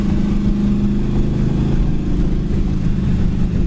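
A white 1969 Chevy Nova engine heard from inside while driving: a steady, low, rumbling drone that holds even throughout, with no talking.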